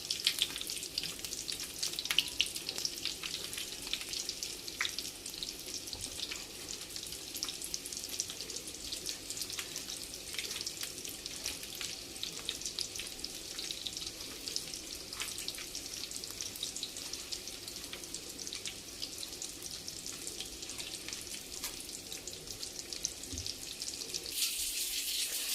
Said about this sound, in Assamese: ধুনীয়াকৈ কম জুইত ভাজিম